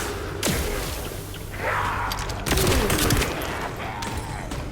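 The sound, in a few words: revolver gunfire in video game The First Descendant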